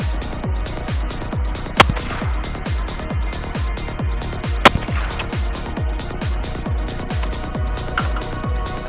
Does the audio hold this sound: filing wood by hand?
no